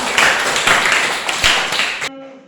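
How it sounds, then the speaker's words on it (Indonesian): Students clapping together in a classroom: loud, rhythmic bursts of group clapping for about two seconds that stop abruptly, leaving a quiet room. "tepuk tangan untuk mereka"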